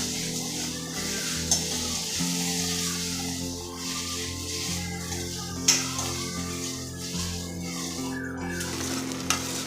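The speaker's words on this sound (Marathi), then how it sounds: "तर जे टाकले ते आपण व्यवस्थित परतून घेऊया" Masala paste is sautéed in oil in a pan, sending up a dense, continuous sizzle with a few sharp clanks of a spoon against the metal, close and alone without speech.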